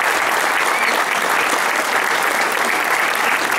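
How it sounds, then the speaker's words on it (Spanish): Sustained, dense audience applause fills a hall during a formal municipal ceremony, loud and steady throughout with no break and no talk over it. "reiteramos este fuerte aplauso para ella por"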